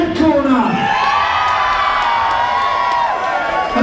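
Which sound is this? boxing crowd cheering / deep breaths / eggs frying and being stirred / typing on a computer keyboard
boxing crowd cheering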